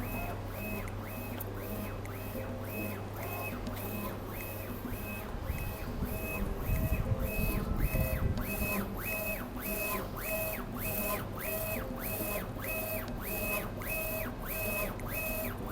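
A MiNi DTG DX11 direct-to-garment printer runs steadily, its print head shuttling back and forth in regular repeating passes with a mechanical whir and a brief louder rumble partway through.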